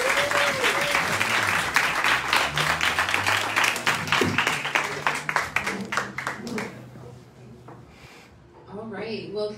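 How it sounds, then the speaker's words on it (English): An audience at a podcast launch party gives a loud round of applause with cheering, the claps thinning out and fading midway before a speaker's voice returns. "can we get another round of applause for Nina G?"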